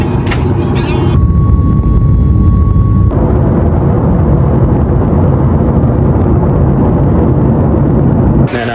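Inside an Akasa Air airliner, a loud, steady broadband engine and cabin roar fills the whole stretch without pause, with a faint tonal whine early on.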